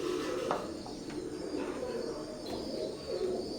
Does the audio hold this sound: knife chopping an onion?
no